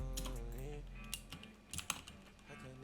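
Keys clatter on an Apple computer keyboard with butterfly switches, a short burst of uneven taps and clicks, close and fairly quiet, following a brief tonal sound at the start.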